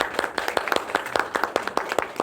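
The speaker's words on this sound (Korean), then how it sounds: "하나님께 영광의 박수를 드립니다" A small church congregation claps, with irregular sharp hand claps spread evenly through the clip.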